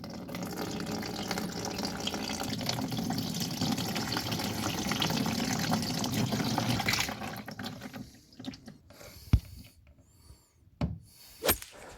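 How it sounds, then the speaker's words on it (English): Coolant drains from a 1.5 Mazda 2 engine into a container, a steady close splashing trickle of liquid for several seconds that stops and leaves a few isolated drips and knocks. "we can open this cap, which will allow the fluid to come out a lot faster, as you can hear"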